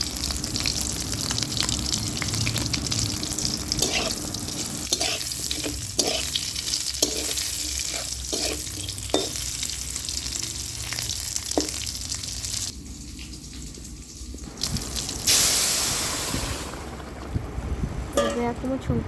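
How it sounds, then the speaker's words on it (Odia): Fish pieces frying in oil in a wok along with tempering spices for a chickpea-lentil fish dish, a continuous close sizzle with stirring scrapes and occasional clatters, a brief lull partway, and a voice faintly present in the background. "କଢ଼େଇରେ ମୁଁ ତେଲ ଦେଇ ଦେଇଛି, ଫୁଟଣ ପକାଇ ଦେଇଛି, ଆଉ ପିସ୍ ମାଛ ଗୁଡ଼ିକ ପକାଇ ଦେଇଛି"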